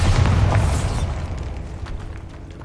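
A Bombarda spell blast in Hogwarts Legacy, one loud, deep explosion that booms at the start and then rumbles and fades slowly with scattered crackling debris.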